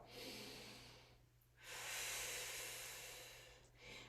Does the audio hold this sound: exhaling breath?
yes